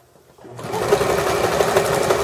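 A sewing machine stitches a placemat, starting up after a brief quiet moment and then running as a loud, steady, close whirring hum.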